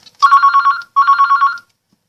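Loud, close ringtone from a Nokia 9110 mobile phone: two bursts of rapid trilling electronic tones separated by a short gap, with nothing else audible.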